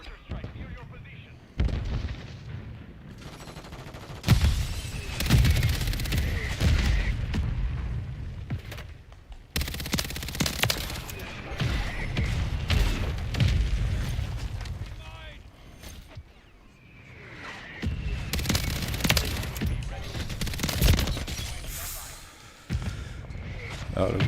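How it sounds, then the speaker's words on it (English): Hostile mortar strike in Call of Duty Modern Warfare III: heavy booming blasts and rattling gunfire in repeated loud bursts, with brief lulls between volleys and game noise throughout. "Hostile mortar strike near your position."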